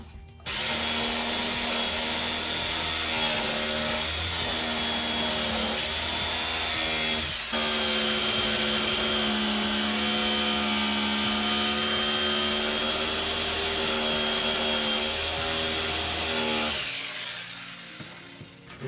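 A small homemade electric file made from old jigsaw blades whines steadily against wood, a loud, continuous motor drone with a brief dip midway, then it winds down at the end.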